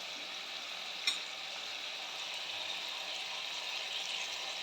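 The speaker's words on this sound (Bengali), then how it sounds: "এটা ভালো করে আমি এখন কষিয়ে নেব।" Tomatoes with salt and spices being sautéed in a pan for a bottle gourd and prawn curry, a soft continuous sizzle with one brief utensil tap, quiet and steady with no talk.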